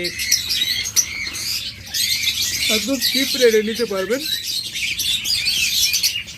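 Pet birds chirp and twitter from their cages, a dense layer of high tweets running throughout while someone talks loudly over them.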